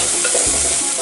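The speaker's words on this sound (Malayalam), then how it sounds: "ചെറിയ ഉള്ളി ഒന്ന് വഴന്ന് വരട്ടെ." Small onions sauté with salt in a pan for Pallipalayam chicken, a dense close sizzle with stirring scrapes throughout.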